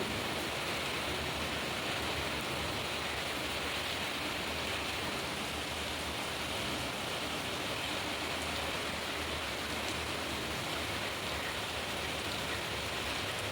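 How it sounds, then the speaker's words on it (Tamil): Heavy night rain in Pondicherry pours steadily as a dense, even hiss that never lets up, close and loud with no voices. "கொஞ்ச நேரம் அப்படியே மழையை பார்த்துட்டே இருந்துட்டோம்."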